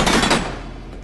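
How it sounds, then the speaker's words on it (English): Loud blind gunfire from behind cover in Kane and Lynch: Dead Men, a rapid burst of shots that blur into a roar and then trail off into echo. "Blind fire."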